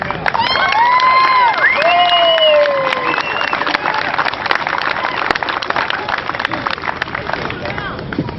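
At an outdoor Second Amendment rally in Phoenix, a large crowd cheers and applauds loudly, with sharp whistles rising over steady clapping and crowd babble throughout.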